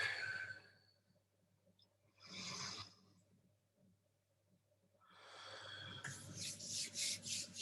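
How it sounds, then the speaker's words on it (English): Palms rubbed together during a qigong-style chi exercise, heard as soft brushing swishes in three separate bursts with quiet gaps, the last one building into a longer, steadier rub. "Rubbing the hands together,"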